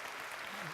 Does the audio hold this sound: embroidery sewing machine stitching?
no